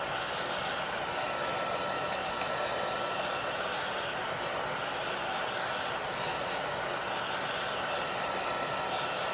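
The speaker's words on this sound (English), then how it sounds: "I accidentally took my mom's hair dryer." A hair dryer blows over chalk paste on a craft surface, a steady loud whooshing hiss held for the whole stretch, broken once by a brief click, with no talking.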